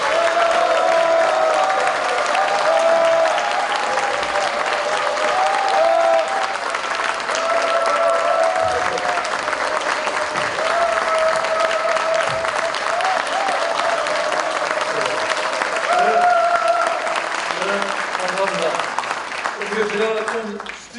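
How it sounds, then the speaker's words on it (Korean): A crowd at a mayoral candidate's policy briefing in Seoul applauds steadily and loudly throughout, the dense clapping continuing without a break and a voice heard faintly beneath it. "우리 박원순 시장님을 큰 박수로 모시겠습니다."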